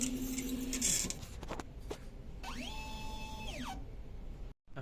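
An inkjet printer runs a nozzle test after a head clean, with mechanical whirring and a carriage sweep that rises and falls in pitch, close by and steady, ending in a brief stop.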